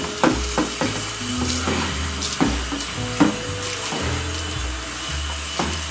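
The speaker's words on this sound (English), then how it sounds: "Rinse it off good with hot water." Hot tap water rinses winemaking equipment, a steady splashing and hissing stream broken by sharp clunks and knocks of the gear being handled, close and fairly loud.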